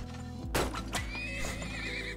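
A horse in a video game about digging for oil lets out a loud whinny over steady background game music, the neigh rising and trailing off within about two seconds.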